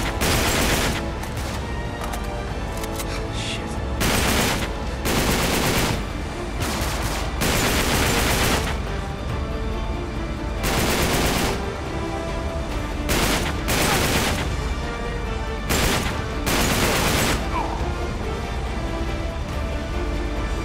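Sustained bursts of automatic gunfire in Uncharted 3: Drake's Deception, loud and close, with repeated volleys and brief lulls between them and no talk over the shooting.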